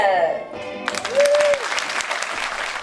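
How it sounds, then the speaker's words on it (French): Theater audience at a comedy show bursts into applause partway through, a sudden wash of clapping following a sung or spoken voice, with a tone sliding over it. "merci d'accueillir sous un tonnerre d'applaudissements celle que vous attendez toutes"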